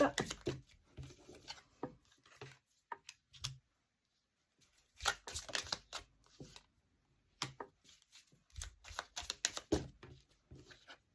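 Tarot cards handled and laid out on a table, with bursts of quiet shuffling, rubbing and soft slaps separated by silent gaps, close and faint with no talk.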